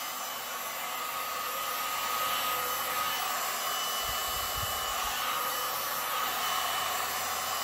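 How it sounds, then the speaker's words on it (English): A heat gun blowing steadily over a resin art piece, a constant airy whooshing hum throughout with a brief low rumble of handling near the middle. "So let me do the heat gun."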